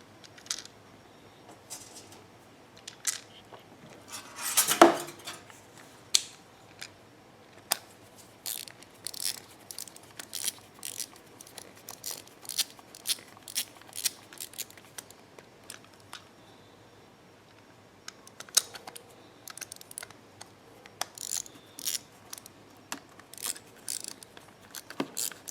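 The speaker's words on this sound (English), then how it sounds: "We'll go ahead and put the screws in now." Screws being driven by hand into a Ryobi 2300/1800 battery charger's plastic housing: faint, sparse clicks, ticks and ratcheting scrapes at irregular intervals, close by and quiet, with no speech.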